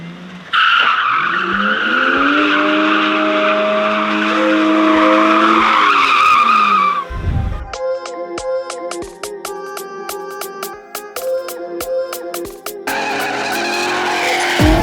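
A BMW E90 sedan drifts during a B Group session at a drift event, with a loud, sustained tire squeal and engine roar. After a brief break, more skidding squeals follow. No one speaks.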